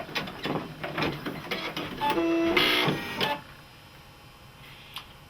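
A Brother embroidery machine stitches through leather with a regular pointed needle, giving rapid mechanical chattering and needle thumps with a brief whirring pitch in the middle, loud and close, then dropping to a quiet hum.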